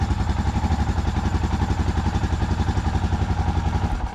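A Royal Enfield Himalayan motorcycle engine, back on after a relay swap, runs with a loud, steady rhythmic single-cylinder thump and mechanical clatter close by, alone without voices.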